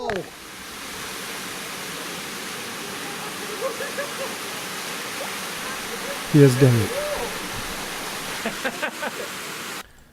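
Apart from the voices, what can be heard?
waterfall at Topes de Collantes, Cuba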